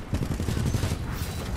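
A Predator cannon fires in a sci-fi shooter video game, a rapid continuous stream of heavy, booming shots that stays loud and dense for the whole burst, with no voices.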